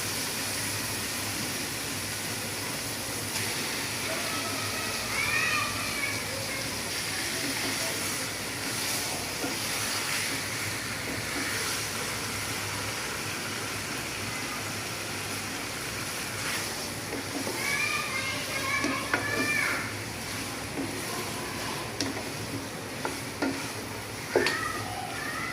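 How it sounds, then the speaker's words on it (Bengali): Beef sizzling as it goes into fried spice paste in a pan, for a beef and moong dal curry: a steady, close hiss with stirring scrapes and small crackling bursts throughout. "এখন আমি মাংস দিয়ে দেব"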